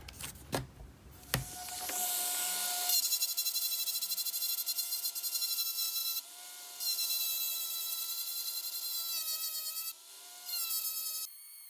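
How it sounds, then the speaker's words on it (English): A 400 grit eraser rubbing over opal inlay rings on a rotary tool, a steady high whirring grind after a few knocks, cut by two brief pauses, close and fairly quiet. "now we need our 400 grit eraser to remove some of these scratch marks, our magic markers left"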